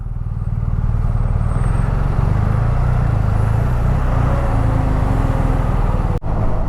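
Road traffic heard from a BMW 1250 motorcycle on a long highway ride, with a loud, steady engine drone and road rumble throughout and a brief dropout near the end.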